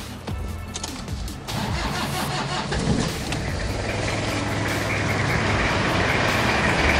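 A rough-running Toyota Kijang SSX diesel engine under restoration, heard close up. It catches after a brief crank and settles into a loud, steady, harsh clatter for the rest of the clip.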